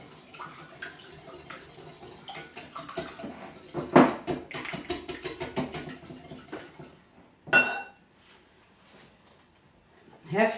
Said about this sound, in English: Use a whisk.